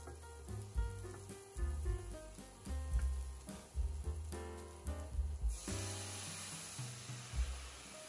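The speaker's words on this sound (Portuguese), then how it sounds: "Quando a cebola estiver nesse ponto aqui, já esbranquiçada, aumente a temperatura e adicione o vinho." Wine is poured into a hot pan of softened, whitened onion for a smoked salmon pasta, and a broad sizzling hiss surges about two-thirds of the way through over steady background music.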